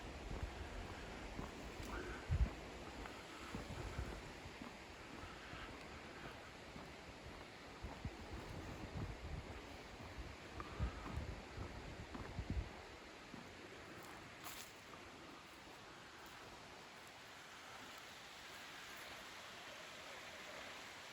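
A creek in winter flows into East Sandy Creek along the North Country Trail, a steady broadband rush of running water with occasional rustles and bumps in the foreground.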